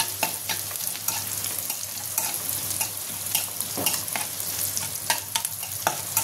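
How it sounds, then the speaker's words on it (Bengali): Onions fry in a pan in a steady close sizzle, punctuated by frequent stirring clinks and scrapes, with a low hum underneath and no voices. "দেখো আমার পেঁয়াজটা লাল করে ভাজা হয়ে গেছে,"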